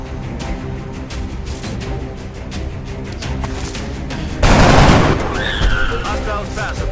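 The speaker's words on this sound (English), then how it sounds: "the person with the scope will take this shot." A scoped rifle shot in the X-Com video game lands as one loud burst amid continuous game music and sound effects, followed by a brief rising electronic tone.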